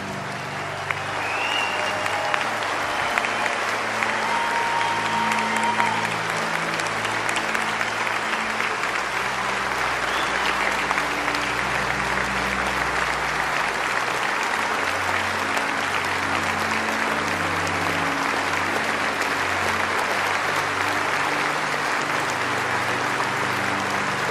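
A large crowd claps steadily and continuously at a 75th-anniversary Pearl Harbor commemoration honoring survivors, a long, even wash of applause with a faint tonal hum beneath it.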